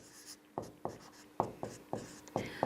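Chalk or marker strokes on a board while a maths problem is worked out: about six distinct, evenly spaced scratchy taps, close and clear against a quiet room.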